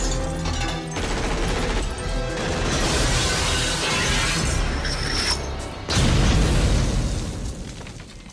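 Movie gunfire shatters glass in a loud, dense burst of crashing and breaking, with sustained debris noise and a second heavy impact partway through, no talking.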